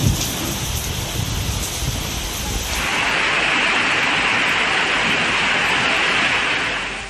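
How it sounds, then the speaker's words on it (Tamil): Heavy rain pours down in a thunderstorm, a dense, loud roaring wash that deepens into a steady downpour after a rumbling start, with no voices. "இடி மின்னலுடன் மழை வெளுத்து வாங்கியது"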